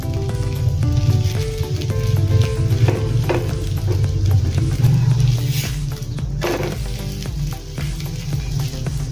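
A rice-flour jalidar snack fries on a pan, with a steady loud sizzle of oil throughout and a few scraping stirs and flips breaking through.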